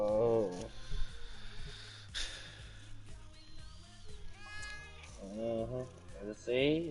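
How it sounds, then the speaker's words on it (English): A house cat meows loudly in repeated drawn-out cries, rising and falling, near and prominent, with people talking over and between the meows. "The cat getting loud"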